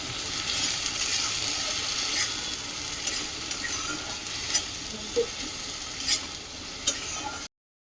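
Tomato and coconut masala sautéed in a pan for a vegetarian dish, giving a continuous close sizzle with sharper scrapes and clinks in the later seconds, no voices.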